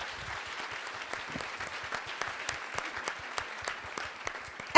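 An audience at a youth engagement summit applauds steadily, a dense patter of many hands clapping at close range throughout, with no talking over it.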